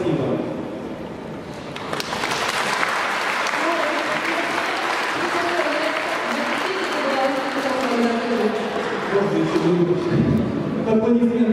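An audience at a tenth-anniversary celebration of a sports and fitness centre in Klintsy bursts into sustained, loud applause after a brief spoken lead-in, the clapping dense and continuous to the end.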